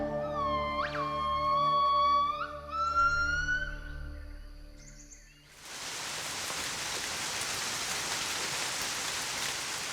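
Heavy forest rain in the rainy season begins partway through, a dense steady hiss of falling water after several seconds of tonal animal calls, then continuing evenly to the end.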